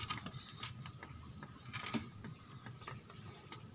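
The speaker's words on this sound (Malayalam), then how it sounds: "നല്ല മഴയാണ്" Rain falls steadily over a garden fish pond with water lilies, a soft, continuous patter with scattered light taps, faint and fairly distant, with no voices.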